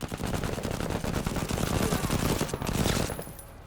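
Sustained rapid gunfire from shooting scavengers in the video game Menace, a dense rattling burst lasting about three seconds before fading.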